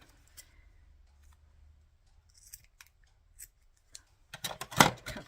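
Scissors cut a length of lace for a shabby chic paper journal: quiet rustling and handling at first, then a quick burst of crisp, close snips near the end.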